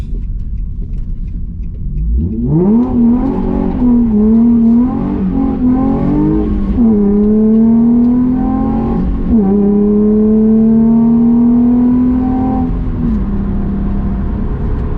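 A Nissan 350Z with BC Racing coilovers, traction control off, revs hard while sliding, its engine note climbing, dipping and surging again for over ten seconds, loud and close.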